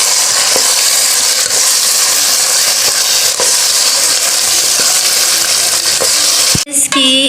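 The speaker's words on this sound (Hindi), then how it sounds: "अब मैं इसमें साग को अच्छी तरह से फ्राई कर रही हूँ।" Mustard greens (saag) fry in a hot pan for sarson ka saag, a loud, dense, continuous sizzle close up with faint stirring scrapes and a sharp clunk near the end.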